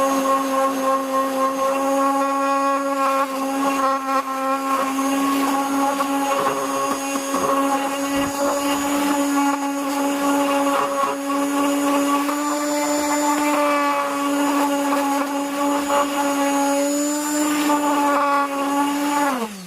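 Dual action sander working over an aluminum motorcycle cover, a steady whining drone with a strong, even tone that holds for the whole stretch, close and loud, wavering slightly as pressure shifts and dropping off abruptly at the end.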